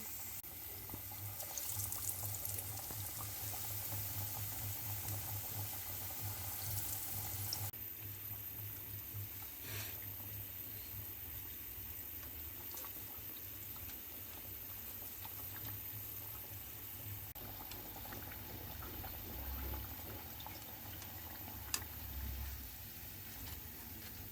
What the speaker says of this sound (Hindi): मीडियम आंच पर फ्राई करेंगे आलू की टिक्की को।